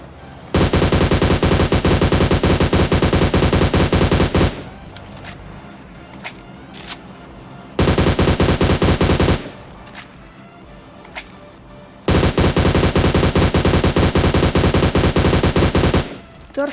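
An AUG rifle fires in a battle royale video game: three long, loud bursts of rapid automatic gunfire separated by quieter pauses with faint clicks.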